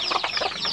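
Chickens on a backyard farm cluck in quick, close, rapid bursts over a brief moment.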